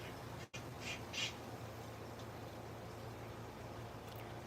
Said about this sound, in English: It's like 3 crows in the background all screaming at me.